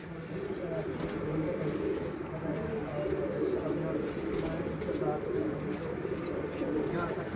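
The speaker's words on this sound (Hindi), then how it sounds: "माशाल्लाह ये अच्छे कबूतर थे।" Pigeons cooing in a bird gallery, soft repeated low coos blending into a continuous murmur from several birds, with people talking faintly in the background.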